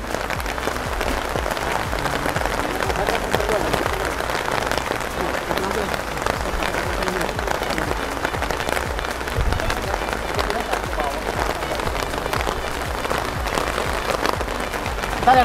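Steady rain falls across a fish farm, a dense even hiss of drops throughout, with a little background activity mixed in.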